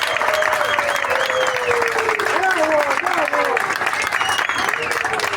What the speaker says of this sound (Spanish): un aplauso para el señor alcalde, que ha regresado con mucho optimismo